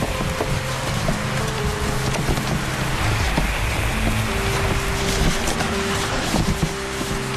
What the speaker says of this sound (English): The rain comes and shuts Hugues down.